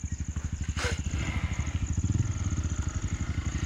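A Honda motorcycle idling on an off-road trail gives a steady, close, thumping engine pulse with one brief blip of revving and clatter near the start, heard alone without talk.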